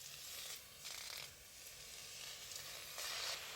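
Sajpata leaves sizzle in hot oil in a wok, a soft, even crackling hiss that swells in a few brief bursts as they are stirred. The sound is quiet and there is no talk.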